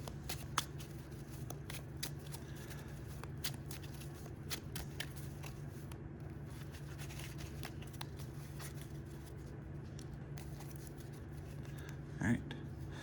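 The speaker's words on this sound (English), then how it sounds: "Quick little shuffle." A deck of Yu-Gi-Oh trading cards is shuffled by hand at a table, a rapid, continuous run of crisp riffling and flicking clicks lasting several seconds, close and fairly quiet.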